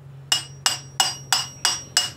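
Six evenly spaced hammer blows on a chisel ring out close by as it works around the edges of a suspension part on a 2007 VW Passat, each a bright metallic clink with no voices.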